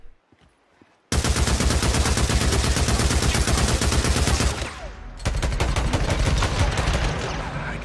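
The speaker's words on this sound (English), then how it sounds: "I'm already shooting it" Loud rapid automatic gunfire in the Days Gone video game, a dense fast stream of shots starting abruptly, briefly easing off, then resuming at full force until the end.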